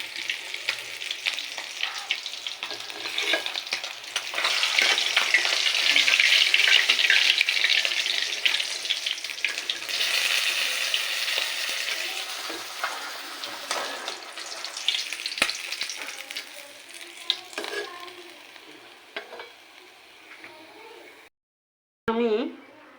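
Two pieces of tilapia fish frying in oil, heard as a loud, crackling sizzle that swells and then slowly settles, with stirring scrapes and a voice speaking over it before a brief silence near the end.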